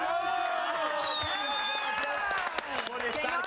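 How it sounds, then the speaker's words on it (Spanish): An outdoor street-show crowd claps and cheers for a guest, the head of Colombia's national statistics agency, with loud whoops and shouting voices over continuous applause, and people talking through it. "¡Un aplauso!"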